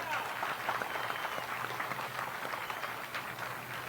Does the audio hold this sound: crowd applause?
yes